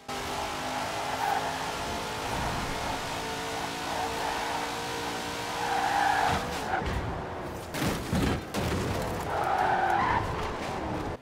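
The 1,918 brake horsepower Hot Wheels Twin Mill in Forza Horizon 4 drones steadily at moderate volume, with tire skids and engine surges breaking in toward the end.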